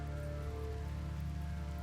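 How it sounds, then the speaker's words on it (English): Steady, faint rain hiss with soft pattering fills the background in the Rimworld video game, continuous and unbroken under a low tonal hum. "It's raining now because there's too much fire."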